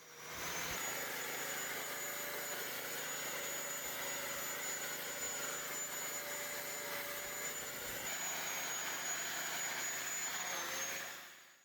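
A power chisel chips hard mortar out of the joints of an old stone wall, a loud, steady, unbroken mechanical roar with a high whine that runs the whole time, close by and with no voices.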